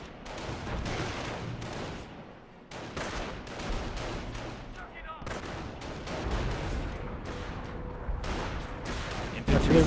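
Artillery barrage in Company of Heroes, a World War II real-time strategy game, with dense overlapping blasts and gunfire rolling continuously at loud, steady intensity, the heaviest burst at the end, and a voice talking faintly underneath.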